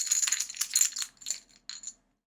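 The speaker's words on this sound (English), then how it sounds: "So let me put these in the bag and shuffle these up." Plastic or wooden board game pieces clatter and rattle as they are shuffled inside a bag, a few bursts of bright clicking over about two seconds, fairly close, with no talking.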